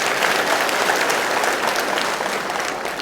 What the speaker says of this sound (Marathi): या सगळ्यांचं एकदा हात वर करून जोरदार टाळ्या वाजवून अभिनंदन करूया